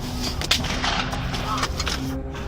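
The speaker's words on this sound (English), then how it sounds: "More shots being fired right now." Several sharp gunshots ring out in quick succession during a midnight shooting. The loud, close cracks arrive at an irregular rhythm over a tense, noisy background.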